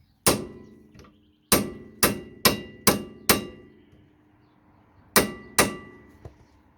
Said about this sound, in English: So get our hammer, so there we go, give it a good hit.